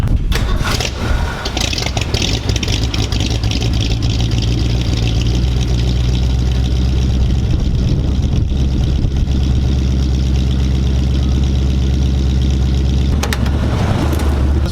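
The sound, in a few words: 1965 Ford Mustang engine cold start and idling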